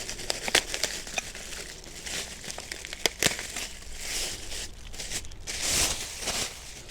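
Plastic packaging crinkled and torn while unwrapping a FIRMAN 3550 portable gas generator, model P0350, a close run of irregular crackles and rustles with a few sharper snaps, no talking.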